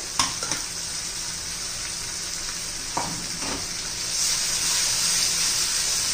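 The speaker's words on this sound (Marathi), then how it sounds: "त्यामुळे चांगलं परतून घ्यायचंय आपल्याला तेलामध्ये, तेल सुटेपर्यंत." Grated raw coconut masala with ginger fries in hot oil in a pan. The sizzle is steady and close, broken by a few stirring scrapes, and grows louder toward the end.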